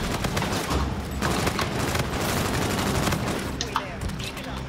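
A sentry gun in a shooter video game fires rapid, continuous bursts of gunfire that carry across the whole stretch, loud and dense, with game sounds mixed in.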